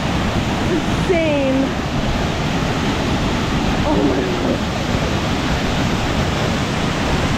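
Mok Fa waterfall in Pai, Mae Hong Son, Thailand, roars as a loud, constant broadband wash heard from right at the base of the falls, with a person's excited voice briefly over it.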